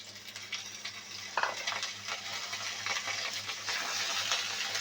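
Sliced flat beans and potatoes fry in a pan with a constant hiss, while a spatula stirs them through in repeated scraping strokes that swell the sizzle; close and fairly loud, no voices.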